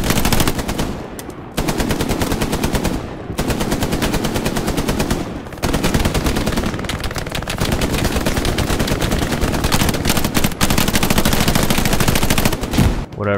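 Loud, near-continuous automatic gunfire in the video game Hell Let Loose during an intense street battle in Carentan, long sustained bursts broken by a few brief pauses.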